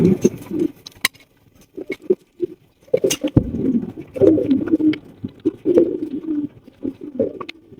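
Mondi pigeons coo in low throaty bursts, several birds close by with irregular pauses, mixed with soft fluttering and shuffling sounds; no talking.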